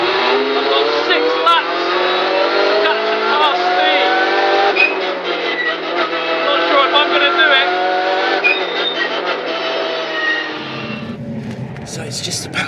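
A Hyundai i30 N TCR race car lapping a track, its engine droning loud and high under hard throttle with harmonic whine, gear changes and speed shifts throughout, dropping off near the end, while a driver talks over it.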